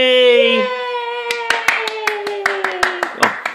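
A toddler clapping small hands, a string of about a dozen light, uneven claps that follow an adult voice speaking at the start.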